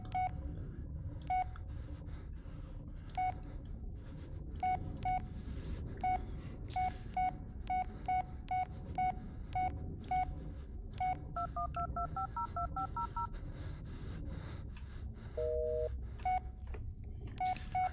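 Phone keypad tones in the horror game Blair Witch beep in a steady run of short presses, followed by a quick cluster of higher tones and a longer double-pitch chirp, clear and close over a low background hum.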